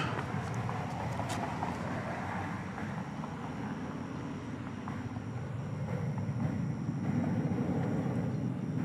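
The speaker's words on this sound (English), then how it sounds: "Flight 4373 cleared for takeoff, going to Albuquerque, a 737-800." Southwest Boeing 737-800 jet taking off at Dallas Love Field at night, a continuous low engine roar that holds steady and swells slightly toward the end, heard from a distance with no talking.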